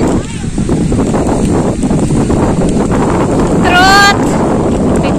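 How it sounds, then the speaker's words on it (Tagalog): Strong wind buffets the microphone at Sai Wan beach, a loud, constant, roaring rush throughout, with a voice speaking over it. "Oh, hangin!"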